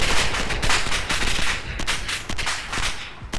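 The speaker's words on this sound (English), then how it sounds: "Whoa, we're still under fire." Sustained gunfire from the military shooter Arma 2 during a firefight with a technical: dense, loud overlapping rifle and machine-gun bursts with near and distant shots crackling continuously, with no speech.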